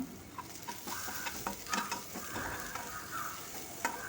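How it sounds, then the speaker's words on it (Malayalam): Shallots, curry leaves, ginger, garlic and green chilli sauté in a pan, giving a faint, soft sizzle with light scattered crackles and scraping from stirring, fairly quiet and with no voices. "കറിവേപ്പിലയും ഇഞ്ചിയും വെളുത്തുള്ളിയും ചേർത്ത് വയറ്റി കൊടുക്കാം പച്ചമുളക് ചേർത്ത് കൊടുക്കാം ചെറിയ ഉള്ളിയും ചേർത്ത് ഒന്ന് വഴറ്റിയെടുക്കാം"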